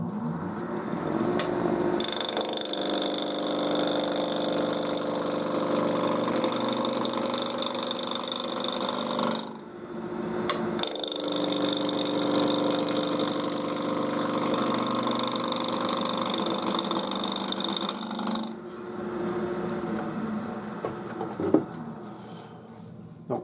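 A wood lathe turns a small box at 1500 rpm, giving a steady, close motor whine and hum with a high tone. It stops briefly, restarts and runs on, then winds down near the end.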